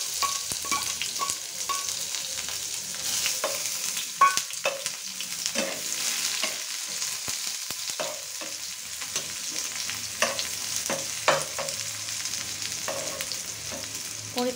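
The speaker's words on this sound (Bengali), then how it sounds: "নিয়ে এখানে দিয়ে দেবো কাঁচা পেঁয়াজ। কাঁচা পেঁয়াজ কুচি আমি এখানে প্রায় 1 কাপের মতো নিলাম।" About a cup of chopped raw onion fries in a pan for a village-style taki fish bharta, crackling continuously up close with repeated spatula scrapes and stirring clicks throughout.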